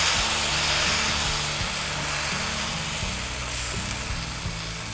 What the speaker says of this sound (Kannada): ಹೆಂಚ್ ಮೇಲೆ ಮೊದಲನೇ ಆ ದೋಸೆ ಆಗಿದೆ